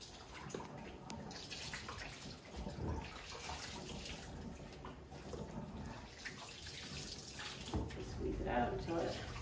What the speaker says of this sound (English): then you would just rinse him like I did before